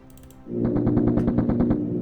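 Rapid automatic gunfire during an attack on an artillery unit in the WWI strategy game Commander: The Great War, a steady burst of about a dozen evenly spaced loud shots following a short quieter lead-in.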